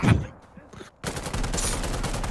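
Enemy gunfire in Insurgency: Sandstorm rattles as sustained rapid automatic shots, loud and close. It starts after a brief quieter lull and follows an opening thump.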